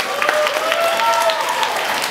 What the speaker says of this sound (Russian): Друзья, ваши аплодисменты,